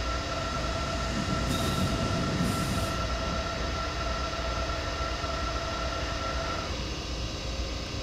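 A train pulls into Leipzig Hauptbahnhof in Train Simulator, with a steady rolling rumble and a sustained high brake whine that fades near the end. A brief hiss of air sounds early on. Nobody speaks.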